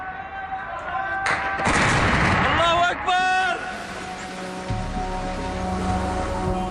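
A heavy artillery blast booms amid shelling of residential areas in Homs, a loud thudding impact with rumbling debris, followed by lingering rumble while a voice speaks over it.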